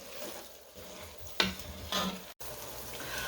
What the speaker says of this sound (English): our ground beef is in the onions and green peppers, and the seasonings have been here browning for 8 to 10 minutes